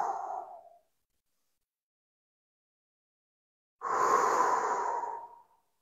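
Slow, deep breathing during a relaxation exercise: the tail of one long exhale, a pause of about three seconds of silence, then another long, steady breath close to the mic.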